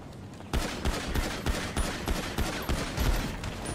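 Rapid video-game gunfire during a police shootout in a role-play server, a string of repeated sharp bursts in an uneven rhythm, fairly close and alone without talk.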